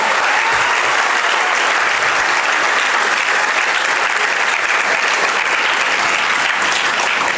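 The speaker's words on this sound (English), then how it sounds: "Huge round of applause for all of you people" A college seminar audience applauds in a loud, steady, sustained wash of clapping with no break.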